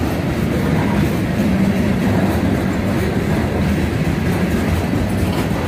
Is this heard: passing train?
yes